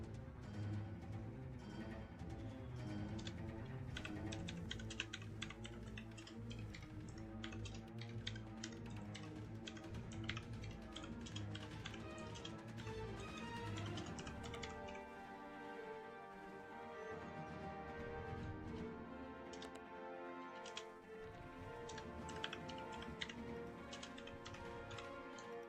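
Rapid, faint clicking of keys on a computer keyboard, in irregular bursts that run almost the entire time with no voices.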